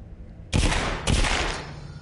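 Two loud, close gunshots in the VR video game The Walking Dead: Saints & Sinners, about half a second apart, each a sharp blast followed by a brief echoing tail, with no talking.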